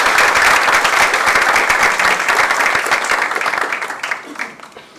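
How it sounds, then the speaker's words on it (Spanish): Strong applause from an audience welcoming a speaker at a book launch, dense clapping loud at first and gradually thinning and fading toward the end. "recibamos con un fuerte aplauso al doctor Diógenes Sexto"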